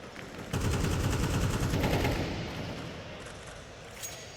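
Rapid pistol gunfire from a P250 during a Counter-Strike 2 match on Inferno, loud sharp shots that pile up into a dense burst, then trail off into fainter echoing fire and a distant pop near the end.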